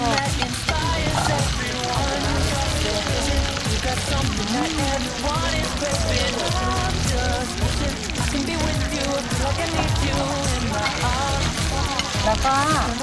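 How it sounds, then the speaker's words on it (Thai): Shellfish frying in a hot pan give a dense, continuous sizzle and crackle throughout, with voices talking over the steady hiss. "เอาหอยทอดเหรอ"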